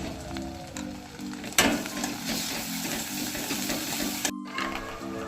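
Spice masala for egg chicken tarka sizzles steadily in a frying pan while it is stirred, with soft scraping, one sharp clank of a utensil and a brief pause in the frying.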